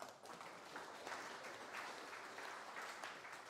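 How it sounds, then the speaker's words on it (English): Conference audience applause at a Saturday-morning analytics event in Berlin, a fairly quiet, even patter of many hands clapping at a distance, lasting a few seconds without interruption. "Applause to yourselves."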